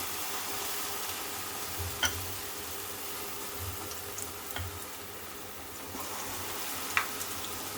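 Plantain bajji deep-fry in a pan of hot oil, giving a soft, steady sizzle and bubbling with a few sharp ticks and pops scattered over it, fairly quiet and with no voices.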